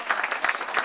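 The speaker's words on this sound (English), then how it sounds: "Can we get a round of applause for all the people that put together such a lovely evening?" A banquet audience applauds in a short burst of dense, moderate clapping from many hands at an evening dinner event.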